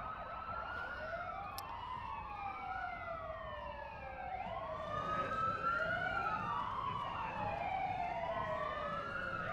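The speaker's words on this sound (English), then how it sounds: "In addition to the sirens," Several emergency vehicle sirens wail together at a Memorial Day parade in Shrewsbury, Massachusetts, overlapping rising and falling tones sweeping continuously at moderate distance over a low crowd and road rumble.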